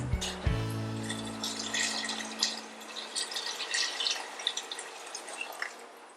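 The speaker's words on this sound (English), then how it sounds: "we're going to add the 4 cups of vegetable broth." Vegetable broth poured into washed lentils in a pot begins with a short low gush, then continues as a bright splashing trickle with irregular drips, close by and fairly quiet, with no voices.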